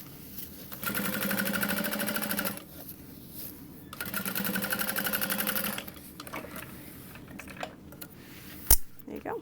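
A sewing machine topstitching through leather and a bag lining runs in two steady bursts of rapid needle clatter, each about two seconds long, separated by pauses, followed by a sharp click near the end.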